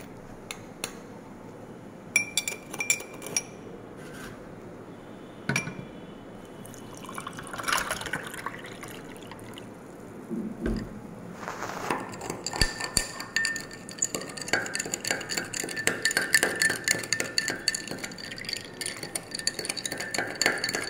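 A cold sharbat being made in a home kitchen on a hot day: liquid pours and drips into a glass, with light clinks of glass and utensils that grow busier and denser toward the end. No one speaks.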